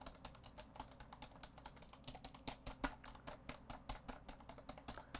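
Computer keyboard being typed on, a quiet, close, fast run of clicky key taps in an irregular rhythm throughout, with no talk.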